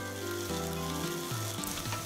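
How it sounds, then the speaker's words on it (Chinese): Saury fish pan-frying with black pepper sizzles steadily and loudly throughout, a continuous close crackle with shifting hum-like tones underneath and no talking. "然后另外一边箱呢就喺度煎鱼"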